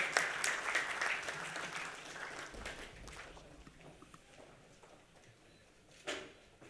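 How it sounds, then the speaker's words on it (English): Applause from a conference audience, fairly faint and a little distant, is loudest at the start and then slowly thins out, with a single louder bump near the end. "can we have a huge round of applause?"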